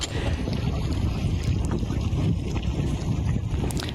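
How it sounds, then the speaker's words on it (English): A roughly 50-metre yacht passes close by a small 5-metre boat at sea, making a steady, loud, close engine and water rumble. Wind noise runs underneath it the whole time, and no one speaks. "This is a 50-meter yacht, approximately. And it's quite loud."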